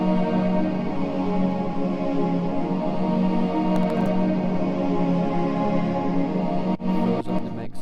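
Sustained Nexus synth pads from the 4 strings preset in a breakbeat track, played without Kickstart sidechain processing, form a dense, even, unpumping wash of chords that holds steady before brief dropouts near the end.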